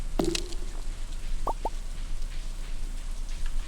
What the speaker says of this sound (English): But it's also a rainy fall day